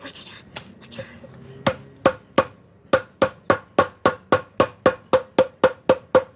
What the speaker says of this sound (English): Chop these little ones off.